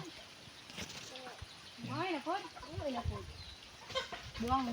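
Several chickens cluck and call in short, rising bursts on a rural farm, with other farmyard animal sounds around them, moderately close and fairly loud.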